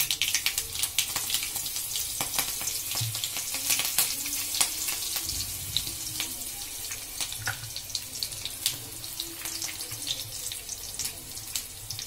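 Mustard seeds and chopped green chili crackling and sizzling in hot oil in a pan, a steady spattering hiss with dense sharp pops throughout, with no talking.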